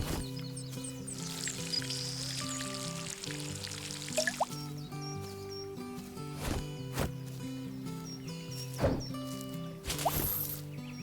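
Water pours from a watering can onto plants in the Garden Simulator video game, a continuous splashing hiss over a looping musical background, with clicks and short game sound effects punctuating it.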